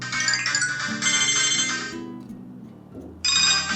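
An Itel Magic X keypad phone plays its incoming call ringtone, a bright electronic melody over a steady low tone, loud and close, pausing briefly before restarting.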